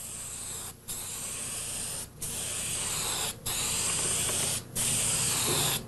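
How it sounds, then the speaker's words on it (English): A spray gun applies resurfacing coating to a stone memorial in five steady hissing passes, each about a second long and separated by brief pauses, loud and close. "There's four sides to this memorial and you'll have to spray it 4 ways."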